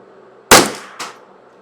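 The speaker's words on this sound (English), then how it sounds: "we're just going to see if this thing will actually cycle this flat nose bullet now" A custom Ruger 10/22 rifle fires flat nose bullets, two sharp, loud shots about half a second apart, each with a short ringing decay, outdoors with no talking.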